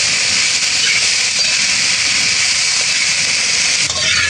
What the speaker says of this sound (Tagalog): ginigisa na rin po ni Tito Ninyo yung ating karning baboy